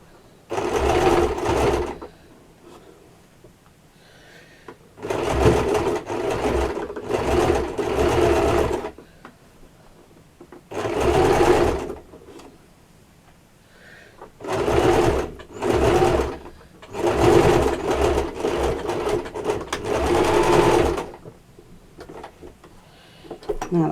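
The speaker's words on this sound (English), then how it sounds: "Now I'm just going to stitch right across" A sewing machine stitches across layered, thickening fabric in a series of close, loud runs of rapid whirring, starting and stopping repeatedly with short quiet gaps between bursts.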